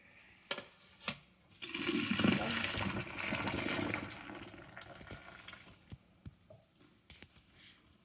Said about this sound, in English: now the next step is to drain the noodles